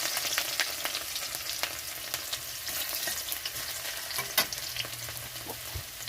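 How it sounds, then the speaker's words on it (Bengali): Dried chillies and garlic hit hot mustard oil, giving a steady, close sizzle and crackle with occasional stirring clinks and no voices. "তেলটা গরম হয়ে গেছে, তো এখানে আমি দিয়ে দিচ্ছি শুকনো লঙ্কা, এখানে দিয়ে দিচ্ছি রসুন"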